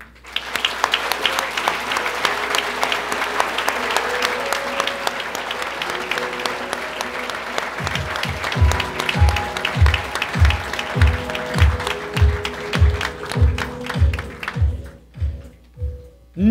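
Audience applause at an awards gala for two prize winners, a sustained wash of clapping under music, giving way midway to slower, rhythmic unison claps that fade near the end.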